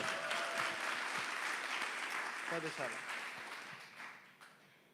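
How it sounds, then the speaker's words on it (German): Applause from a church congregation at a Pentecost gathering, a steady wash of clapping filling the room, with a brief sung or spoken voice rising over it midway before the sound slowly fades. "Een applaus."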